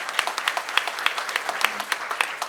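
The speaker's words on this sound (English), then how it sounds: "Let's have a round of applause for them also." Audience applause at a foreign education guidance seminar: a dense, steady round of clapping from a crowd that fills the whole stretch at moderate loudness, with no speech over it.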